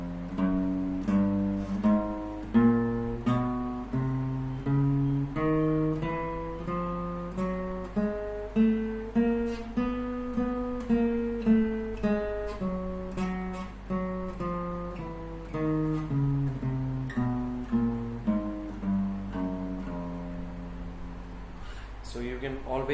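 A guitar plays a chromatic spider exercise with all four fingers, one note at a time in an even rhythm, climbing and descending in pitch, clear and close, with no talking over it.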